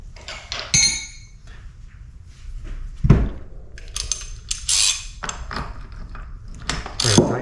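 A tool tightens a nut on a motorcycle fork during a fork seal change, with scattered close metallic clinks, taps and one dull knock at irregular intervals.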